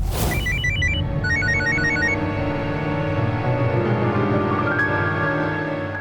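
A telephone rings with a bright electronic ringtone, a repeating melodic pattern in short bursts, loud and close, over a steady background hum.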